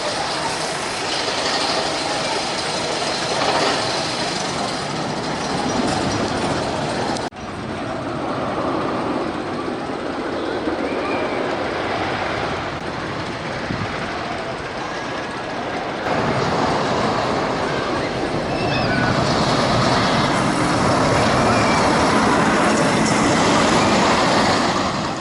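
The Ride of Steel roller coaster at Six Flags Darien Lake roars along its track in a sustained, loud rush of rumbling wheels and wind, continuous for the whole stretch with slight shifts in intensity and no clear talk.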